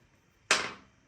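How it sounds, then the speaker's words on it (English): Dice thrown onto a table in a Kill Team tabletop wargame land as a single sharp, close clatter that fades quickly, with no talk over it. "Bev's throwing dice everywhere."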